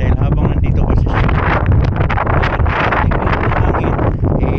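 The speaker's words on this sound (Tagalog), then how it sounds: "kung naririnig nyo, naririnig tayong leak na hangin" Air hissing from a leak in a bobtail truck's air brake system in winter, a steady broadband rush close to the microphone with some wind buffeting mixed in, continuous throughout.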